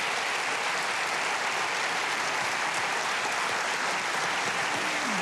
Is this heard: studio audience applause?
yes